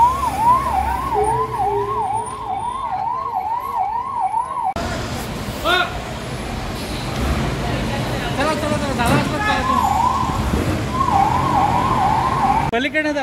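Fire engine sirens wail and rise and fall as the trucks arrive at a blazing industrial company fire in an MIDC area, mixed with truck engine noise and crowd commotion.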